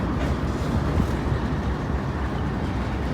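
A train rumbles past on railway tracks at a steady, moderately distant level, a continuous low roll with faint wheel clatter and no talk.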